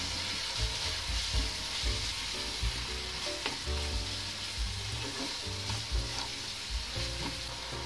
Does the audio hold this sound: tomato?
yes